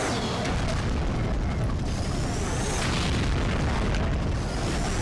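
A cannon blasts at a helicopter in the video game Agent Under Fire, a sustained loud rumble of booming explosions filling the whole stretch without pause.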